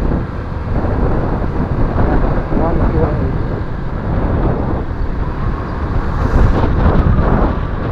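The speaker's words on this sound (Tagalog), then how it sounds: "ang lakas ng hangin, kung naririnig nyo yan" Strong wind on a hilly zigzag road from Indang to Alfonso, Cavite, roars and buffets the microphone in a constant low rumble, with gusts swelling briefly toward the end.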